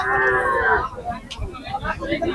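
A cow moos at the Shimulia cattle market in Rupganj, Narayanganj, a drawn-out low call up close at the start, then fading into the murmur of the crowd and the voices around it.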